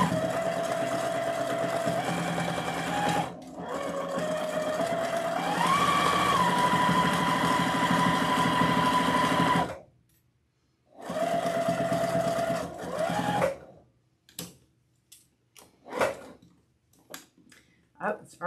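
A sewing machine stitches a fabric wreath attachment in long steady runs with shifting motor pitch, stops briefly, runs again, then falls quiet apart from soft handling sounds.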